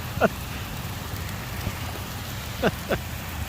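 Steady heavy rain hisses and patters on surfaces in a continuous wash during the 2023 Sturgis motorcycle rally, with a few brief soft sounds standing out above it.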